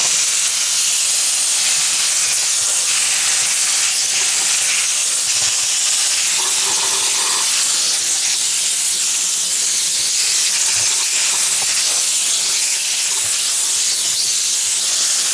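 A steam cleaner fitted with a stiff-grime brush head hisses steadily as it cleans a bathroom sink and tap, a loud continuous spray that holds alone throughout with small shifts in intensity.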